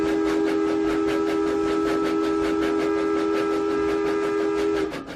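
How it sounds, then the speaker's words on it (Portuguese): Steady train whistle from an illuminated passenger train passing in the opposite direction, a loud continuous tone over the rhythmic clatter of wheels on rails, cutting off near the end. "E apitou, vindo em sentido inverso,"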